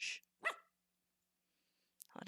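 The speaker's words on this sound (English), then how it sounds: "got a barking dog right behind me" A dog barks right behind a person at a desk: two sharp, close barks, then a pause and another bark, each loud against near silence.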